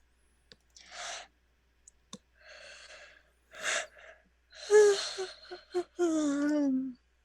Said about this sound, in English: Big yawn. Big yawn indeed.